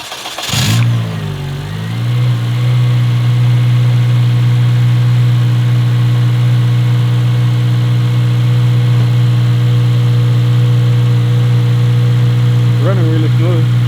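A Honda Civic Si (8th gen, FA5) engine with a cold air intake and freshly uploaded tune cranks, catches and settles into a steady, loud, smooth idle with a strong low hum. A brief blip of revs comes near the end.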